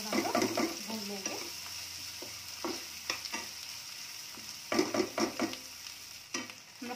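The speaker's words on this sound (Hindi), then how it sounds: "पिंक कलर आने तक इसको थोड़ा हम लोग भून लेंगे." Chopped onions sizzle steadily in a hot pan while a spoon scrapes and stirs them in repeated bursts, with a soft background hum, as they are sautéed for dum aloo.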